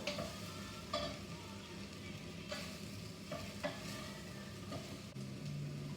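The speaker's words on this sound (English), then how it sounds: "add the cauliflower in. Give that a stir." Cauliflower and onions cooking in a pan, a soft background sizzle broken by several sharp scraping clicks of a utensil stirring against the pan, fairly quiet and close.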